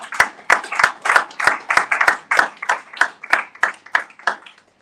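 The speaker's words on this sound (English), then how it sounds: "give yourself a round of applause" Attendees at a CEO lecture clap in a steady, rhythmic pattern of roughly fifteen distinct, fairly close claps over about five seconds, gradually tapering off at the end with faint voices underneath.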